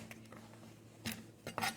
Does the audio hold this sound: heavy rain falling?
no